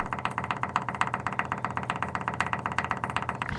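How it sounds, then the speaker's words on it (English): An electric fuel pump runs steadily for a carbureted engine setup with a regulator, a close, rhythmic pulsing buzz with fast even beats and no pauses. "As you heard, I got the fuel pump hooked up."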